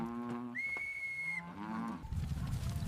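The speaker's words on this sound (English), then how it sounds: "Millions of Ankole cattle magically spread across these vibrant East African savannas." Ankole cattle on an East African savanna in Uganda give a deep, drawn-out moo, joined by a higher sustained whistle-like tone and rougher low lowing toward the end, all fairly close.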